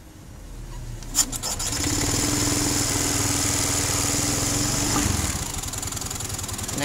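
A Honda Beat PGM-FI fuel-injected scooter with hesitation trouble runs close by. There is a sharp click, then the small engine starts and idles with a steady, loud putter before settling lower.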